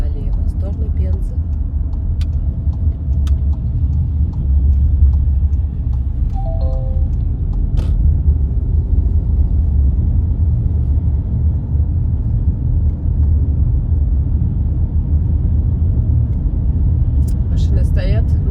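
A car drives along a highway, heard from inside the cabin while coming off the Tambov bypass and turning left toward Penza on a long road trip. A steady, loud low engine and road rumble continues throughout.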